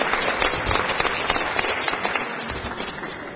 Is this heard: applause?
yes